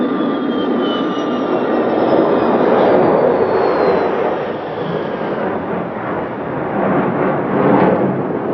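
Tupolev Tu-144 supersonic jet passing over an airfield, a loud broad roar with a high whine sliding slowly downward, the rumble holding strong then easing and swelling again as it passes.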